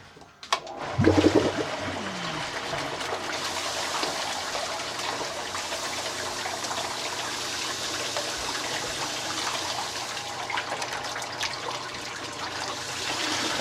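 A 55-gallon sugar syrup mixer for honeybees starts up with a thump and then runs with water, giving a steady loud rushing and churning that continues unchanged to the end.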